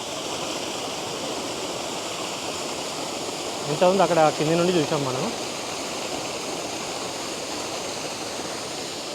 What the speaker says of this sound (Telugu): ఇది వచ్చేసి ఫస్ట్ స్టెప్ వాటర్ ఫాల్స్ ఇది